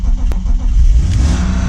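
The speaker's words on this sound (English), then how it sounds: "So let's start this car up now" A BMW E36 328i engine starting after three years parked, a loud, close, low rumbling crank that catches and settles into a steady rough idle, with no talk.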